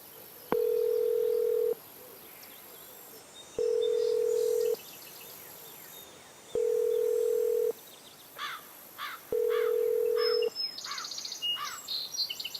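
A borrowed phone gives four evenly spaced, long, steady ringback beeps with no answer, while birds chirp faintly in the background.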